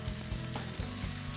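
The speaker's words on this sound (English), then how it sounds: "We heard a nice sear when we put it in the pan" Wild cod fillets sear in a cast iron pan with a brief, steady sizzle over a low rumbling undertone, close by and without speech.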